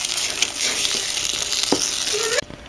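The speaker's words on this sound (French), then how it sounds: "ajouter la farine en une seule fois, et je vais mélanger donc vivement afin d'obtenir donc une pâte" Flour being stirred vigorously into hot choux pastry dough in a saucepan, a busy close scraping and sizzling texture that runs steadily for over two seconds before cutting off abruptly.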